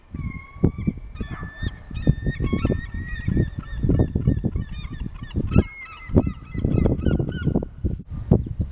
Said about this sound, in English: You don't like watching the seagulls crack their food on the rocks?